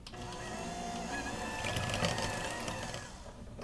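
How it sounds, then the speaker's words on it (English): A blender whirring through pumpkin pie filling made from a real pumpkin, giving a continuous dense motor roar with a rough, churning texture, steady and close, with no talk. "Now we're blending."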